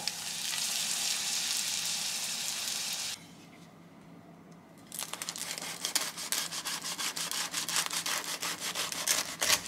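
Thin spring roll wrappers fry in a pan, giving a loud sizzle that drops away for a moment and then returns as a crackly, uneven fry.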